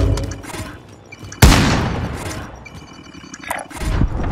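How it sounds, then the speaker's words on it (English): Enemy gunfire in Call of Duty: Modern Warfare hits as one sudden loud blast that rings out and slowly fades, amid lighter scattered combat noise before and after. "Now they're shooting at me."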